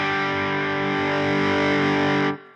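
Electric guitar through the green side of a dual stacked overdrive pedal, a single distorted chord ringing out thick and sustained, loud and close, then choked off after about two seconds.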